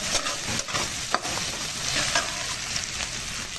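Chopped ginger, garlic and chili frying in oil, a steady close sizzle with scattered scraping strokes of a spatula stirring the pan, no talk.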